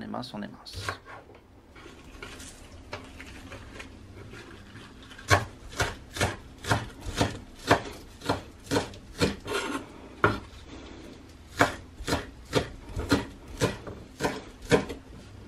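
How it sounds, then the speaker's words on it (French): White onions sliced with a knife on a wooden board for Hiroshima-style okonomiyaki, a fast, steady run of crisp, close chopping strikes that grows more regular and louder toward the end. "on va prendre nos oignons blancs. Et on va faire la même chose, on va les émincer aussi"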